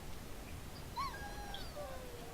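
A dog in the video game Dragon Age: Origins gives a few faint, high whimpering whines, thin and wavering against a quiet background.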